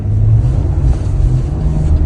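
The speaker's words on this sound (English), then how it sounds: "just go straight onto the gas and go" An Ineos Grenadier 4x4 accelerates off-road under full throttle, its engine a loud, close, low droning rumble that holds steady without a break.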